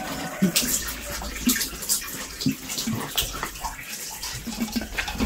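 Water runs steadily from a garden hose outdoors after rain, a continuous splashing wash with intermittent knocks and brief sounds over it.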